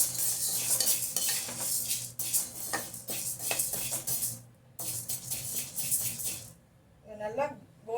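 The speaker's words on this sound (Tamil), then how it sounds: "இப்போ நம்ம 1 கப்பு உளுத்தம்பருப்பு போட்டிருக்கோம். இதுவும் நல்லா வறுக்கணும், நல்லா சிகப்பாக வறுத்துக்கங்க" Urad dal being stirred as it dry-roasts in a pan, with a spoon scraping and rattling the grains in repeated strokes and pauses, close and fairly loud, while a voice speaks briefly near the end.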